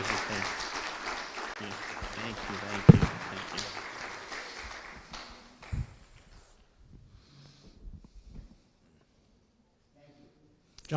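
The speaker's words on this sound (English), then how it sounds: "Join me in rounds of applause to thank our dear leadership." Applause from an audience at a Riviera Beach community gathering, a dense patter of clapping with voices mixed in that thins out and dies away after about five seconds, leaving faint scattered sounds and near silence.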